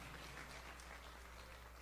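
Church congregation applauds Jesus while taking their seats, a faint, even patter of clapping over a steady low hum from the room's sound system.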